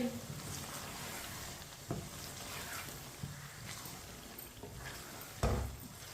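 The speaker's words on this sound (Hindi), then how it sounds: "अंडों को बॉईल किए हुए अंडे डालेंगे, अच्छी तरह मिक्स कर लेंगे" Boiled eggs being stirred into a pea curry in a pan give a steady sizzle with soft scraping and a few louder clanks of the spoon against the metal, one knock stronger near the end.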